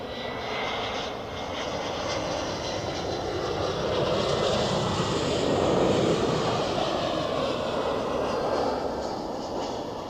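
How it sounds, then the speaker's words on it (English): Swiss Airbus A320 in Star Alliance livery at Zurich Airport, its jet engines a moderately distant roar that swells toward the middle and then eases, with no voices. "the first Swiss A320 in Star Alliance livery we see today"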